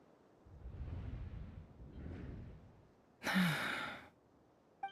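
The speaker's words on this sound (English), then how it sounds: "I heard Yehuda gasp" Yehuda, a character in the video game Genshin Impact, lets out a breathy gasp, then a sharp, bright burst of sound follows, set against low rumbling game ambience.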